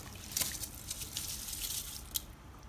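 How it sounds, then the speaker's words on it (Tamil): Soaked seeraga samba rice goes into a pot of water for kuska, giving close wet squishing and dribbling with a couple of sharper splashes over a constant low background. "இப்போ அரிசி எல்லாத்தையும் இதில் நான் சேர்த்துறேன்"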